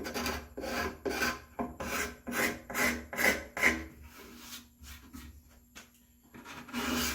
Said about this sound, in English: you can take the card scraper, get any of the final scratches off